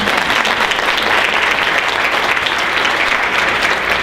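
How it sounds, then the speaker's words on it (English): Sustained audience applause in a school symposium hall for volunteers just seated after a demonstration, a dense steady wash of many hands clapping with no voices on top. "Let's give a round of applause for them"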